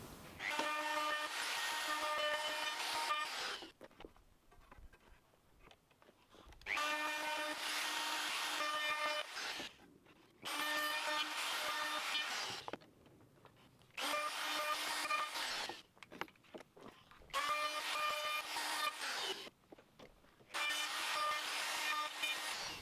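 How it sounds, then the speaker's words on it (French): Wood router trimming the edge of a wooden broom handle, bursts of loud high whining cutting lasting a few seconds each, separated by short quiet gaps, about five passes in a row with no talking. "Je vais également donner un petit coup d'affleureuse sur le long du manche, de manière à éviter de me reprendre des échardes"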